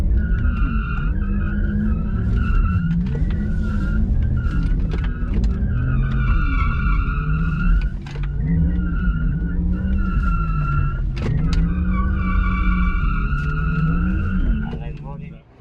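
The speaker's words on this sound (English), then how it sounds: "Then you hit your pedal and you send the car sideways." A Porsche Taycan Turbo S drifting sideways on a track, tires skidding and squealing in long wavering wails, loud and near and nearly continuous, with brief dips as the car recovers from understeer into oversteer; a voice talks over it.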